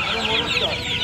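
A desi rooster at the Uluberia poultry market gives a quick burst of close, throaty clucks amid a chorus of other chickens.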